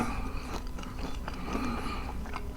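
Someone chews a piece of BBQ pizza close up, wet crunchy mastication going on continuously and fairly loud, with no talking.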